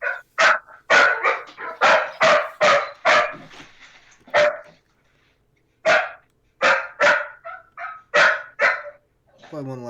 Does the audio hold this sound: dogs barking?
yes